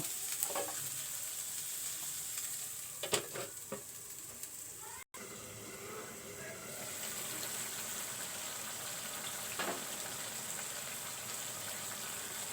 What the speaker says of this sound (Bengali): সিম আলু কষিয়ে নিলাম